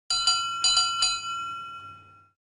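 A bright bell on Toby the tram engine rings after being fixed in a Thomas & Friends video game, with five quick close strikes followed by a clear ringing tail that fades out, with no voices.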